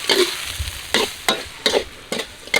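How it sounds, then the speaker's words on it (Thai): Catfish stir-fried with vegetables, holy basil and sauce in a wok, a steady sizzle punctuated by about six sharp spatula scrapes at a regular pace, close and loud. "ผัดจนกว่าโหระพาจะสุกนะครับ"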